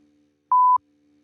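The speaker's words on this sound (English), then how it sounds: "We interrupt this podcast to bring you a censored beep." A single sharp censor beep from an instant sound button, a steady pure tone lasting about a quarter second, loud and isolated against near silence.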